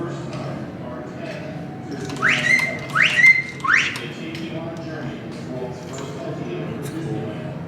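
An animatronic bird in the Enchanted Tiki Room whistles three quick rising notes in a row, clear and close, over a murmuring crowd and voices.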